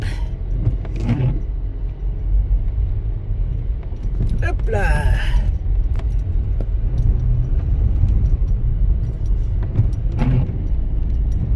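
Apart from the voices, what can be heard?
car driving up a steep slippery forest track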